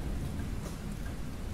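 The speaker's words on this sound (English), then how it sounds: "Torrential rain starts pouring down and soaking through your t-shirt, pants, and the worst offender of all, your socks" Heavy torrential monsoon rain pours down steadily, a dense, loud wash of drops with no voices and no breaks.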